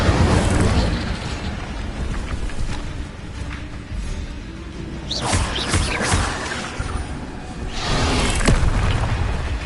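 Bursts of fire spells in a Hogwarts video game, including the Incendio fire spell: loud, continuous whooshing roars with fiery booming swells, dense and sustained, with no talk.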